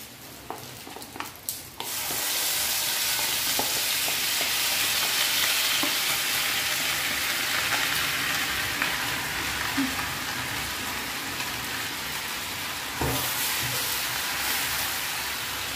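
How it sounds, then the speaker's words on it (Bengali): Spice paste for a chicken roast hits hot oil after a few light knocks, then fries in a loud, steady, broad sizzle with occasional stirring scrapes, continuing close up to the end. "এবার যে রোস্টের জন্য যে পেস্টটা বানিয়েছিলাম, সেই পেস্টটা আমি তেলের মধ্যে দিয়ে দেব।"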